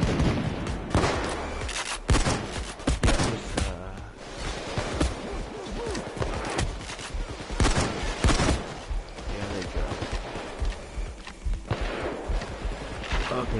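Shotgun blasts ring out in a PS4 video game firefight, a dense series of loud booming shots and bursts overlapping with other gunfire, with players talking throughout.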